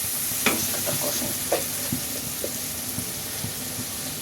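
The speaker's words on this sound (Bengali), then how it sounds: "মশলাটা কষাই।" Spice paste with turmeric and cumin powder stirred and fried in a pan for an egg, eggplant and tomato curry, a soft continuous sizzle broken by repeated spatula scrapes and taps, no talking.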